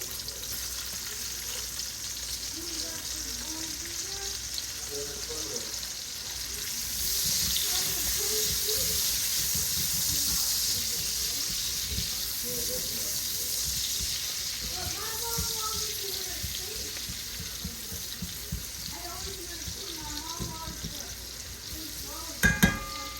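Red onions sizzle steadily in a hot pan as rice is being cooked, a continuous frying hiss with occasional stirring scrapes, while a voice talks intermittently over it.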